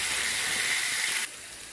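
Onions frying in a pan give off a steady bright sizzling hiss for over a second, then it drops abruptly to a quieter sizzle, with no talking.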